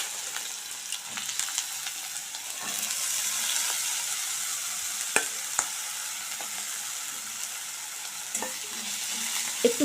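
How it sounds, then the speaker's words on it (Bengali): Potato and eggplant pieces fry in hot oil with dried chili, a steady close sizzle with scattered crackles and occasional scraping clicks as they are stirred, no voices. "এবার এর মধ্যে আমি আলু বেগুনগুলো দিয়ে দিলাম।"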